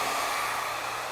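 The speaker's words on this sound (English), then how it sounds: "Or you can take the blow dryer like this, right?" A blow dryer runs on fine hair in a salon, giving off a continuous airy whoosh with a steady motor hum. It is close and even, with no talking.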